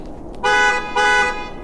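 Two short, loud truck-horn chirps as the truck is locked, close by, the second following the first after a brief pause.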